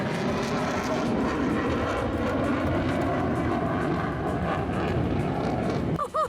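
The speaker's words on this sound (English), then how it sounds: "there were a couple of fighter jets that were flying around" Fighter jets flying over at an air show, a loud continuous roar of jet engines filling the air for several seconds before easing off at the end.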